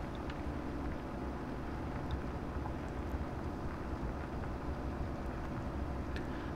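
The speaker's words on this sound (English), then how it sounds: "This tractor's definitely having no problem pulling the plough." A tractor pulls a plough in Farming Simulator 17, its engine a steady, loud, droning low rumble that holds unchanged throughout with no voices.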